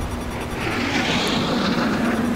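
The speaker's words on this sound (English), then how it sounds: "It's a jet." A jet aircraft in the video game Battlefield 4 roars past, a broad, loud engine rush that builds and holds steady throughout, with no voices over it.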